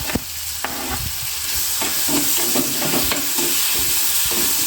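Onion, tomato and green chillies sautéing in a pan, a steady close sizzle with intermittent scraping and stirring clicks, no talking.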